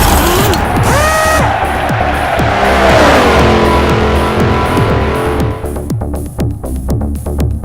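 A V8 Supercar race car in Forza Motorsport 4 loses control and slams into a wall, loud engine roar and tire squeal building into a crunching impact, then a scatter of clattering debris knocks as the noise drops away.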